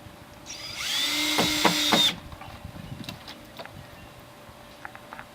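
A power drill drives 1-inch hard steel self-piercing screws into a poly drum for a planter deck: one loud, close whirring burst lasting about a second and a half, followed by faint handling clicks.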